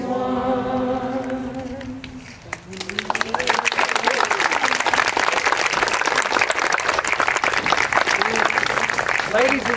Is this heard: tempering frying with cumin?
no